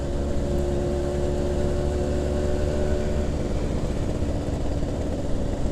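A Suzuki Tornado GX100 motorcycle rides along with its engine braking, a steady low droning engine tone with even hum and road noise, no talk.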